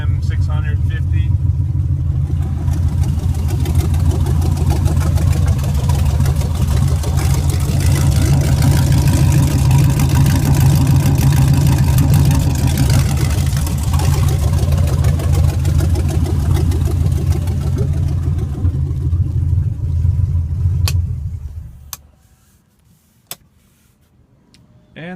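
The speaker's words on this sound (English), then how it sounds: "it's idling at a nice 700 RPM, 650." A swapped-in LSx V8 idles steadily in a BMW E28 with side pipes, a loud, deep rumble at around 650–700 RPM that runs unbroken for about twenty seconds, then stops with a few faint clicks after.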